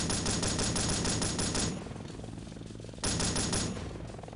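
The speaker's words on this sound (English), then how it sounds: "Lay down some fire and keep an eye out for more of those suicide troops." Sustained automatic gunfire laying down cover fire in Delta Force: Black Hawk Down at the Gachsaran oil field, loud dense bursts that briefly drop to a quieter rattle before a fresh heavy volley resumes.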